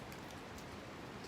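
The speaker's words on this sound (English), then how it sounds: "Rain just keeps raining." Rain falls steadily at a winter trail shelter, a dense, even hiss of drops on surfaces filling the short stretch, faint and continuous with no talking.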